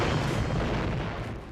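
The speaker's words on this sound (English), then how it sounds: "a steady barrage of cannon fire" Sustained barrage of naval cannon fire from warships, heavy overlapping booms and rumble rolling together into a dense, continuous roar without pause.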